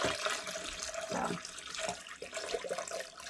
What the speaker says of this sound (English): I'm putting hot water in